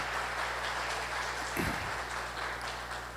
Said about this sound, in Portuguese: Então, uma salva de palmas para vocês e gratidão.